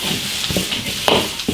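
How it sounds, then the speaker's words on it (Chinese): Braised beef is stir-fried in an iron wok, a short burst of soft sizzling with scraping spatula strokes and clinks of metal close by. "把牛肉稍微煸一下"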